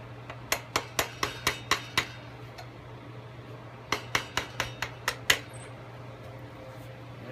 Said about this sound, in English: I'm going to take a screwdriver and just kind of tap it into place